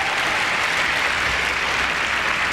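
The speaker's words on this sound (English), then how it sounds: "a nice applause for Jennifer Robinson of Canada" At a figure skating competition, a crowd applauds a Canadian skater with steady, dense clapping that holds at a loud, even level throughout.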